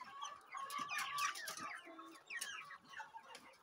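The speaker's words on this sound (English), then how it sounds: "Enjoy with the SASSO. Enjoy with the chickens." SASSO chickens cluck and chatter in a busy flock, many overlapping bird calls rising and falling at close to moderate distance, with no speech.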